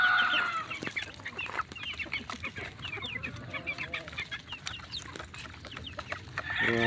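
Young chicks cluck and peep busily while feeding at a trough, a dense chorus of overlapping calls close by with brief louder chirps.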